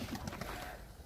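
Pigeons coo in soft, low, repeated murmurs at close range over a steady faint background, with the calls bunched toward the start and fading later.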